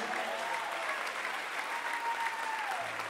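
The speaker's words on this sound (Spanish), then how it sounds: "Dale el aplauso a Dios." A church congregation applauds for God during a sermon, a steady, even wash of clapping across the whole stretch, with a faint sustained tone beneath it.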